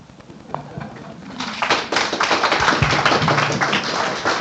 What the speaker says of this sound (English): Another round of applause for Glen Griffin